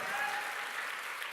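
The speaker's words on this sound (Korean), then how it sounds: "할렐루야. 박수." A church congregation claps together in a sustained burst of applause, fairly distant and even, lasting only a moment.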